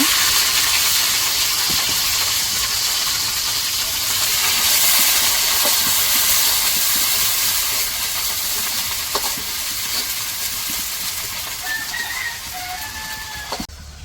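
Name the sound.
onions frying in oil in a kadai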